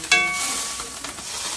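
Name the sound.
butter sizzling in a hot skillet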